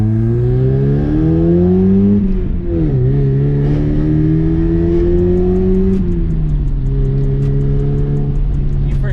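A Mazda Miata with a new ISR exhaust revs and accelerates hard, its loud exhaust tone climbing, dipping and climbing again through shifts, with a faint voice briefly underneath.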